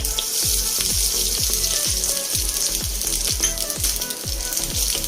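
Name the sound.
coconut frying in ghee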